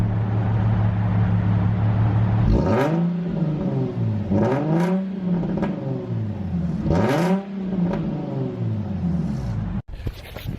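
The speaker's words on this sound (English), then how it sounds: "give you guys a few last revs before this exhaust goes bye-bye" A car engine fitted with a SOHO exhaust revs three times, each blip rising sharply and falling back to a deep, throaty idle rumble, loud and close, with no talk.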